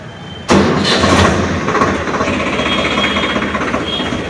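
A Swaraj 855 Special Edition tractor engine cranks and catches abruptly, then settles into a loud, rough diesel idle that clatters steadily close by.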